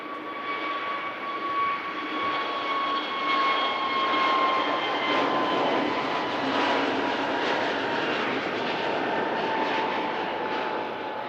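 EasyJet Airbus A321neo jet at Manchester Airport, a steady loud engine roar with a high whine, sustained and fairly close throughout, no voices.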